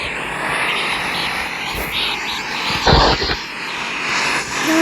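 Airliner engines drone steadily during pushback at an airport in a flight simulator game, a loud continuous broadband roar with a brief surge near the end.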